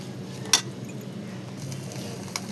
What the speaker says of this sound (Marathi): मच्छीच्या अंड्याची भुर्जी. चला चांगले शिजून घेऊया आपण आता.